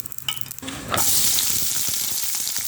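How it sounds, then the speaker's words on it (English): Red onions dropped into pre-warmed cooking oil burst into a loud, steady sizzle that holds close and continuous, with faint stirring scrapes under the frying hiss. "So let me pre-warm the cooking oil, and then I add the onions"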